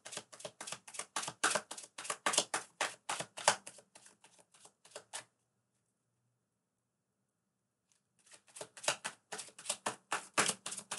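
A deck of playing cards is shuffled over and over in close, rapid riffling bursts during a live evening card-reading stream, broken by a few seconds of silence before the shuffling starts again.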